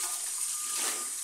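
Tap water runs steadily as salad greens are rinsed at a kitchen sink while a healthy lunch is prepared, a continuous close hiss with no talking.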